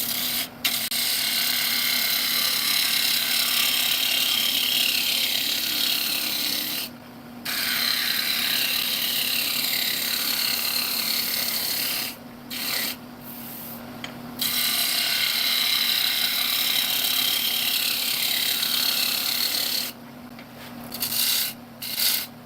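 Wood lathe spinning a bowl blank that stands far out from the chuck, giving a steady loud rubbing, buzzing vibration throughout, interrupted by a few brief pauses.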